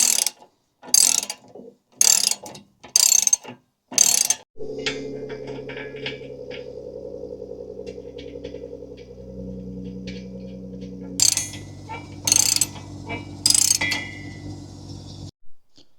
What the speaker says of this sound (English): So I put the bolt on there, tighten it back up